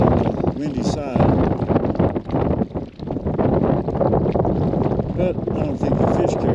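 Strong wind buffets the microphone beside an alpine lake in Colorado, a steady low roar with gusting surges throughout, while people talk over it.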